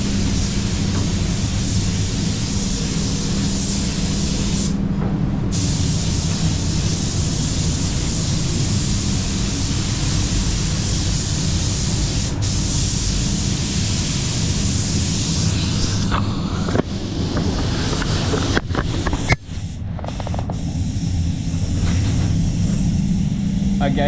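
PPG Envirobase basecoat sprayed from a DV1 basecoat spray gun in a paint booth, a steady broadband airy hiss held throughout, with brief interruptions and clicks near the end; no speech.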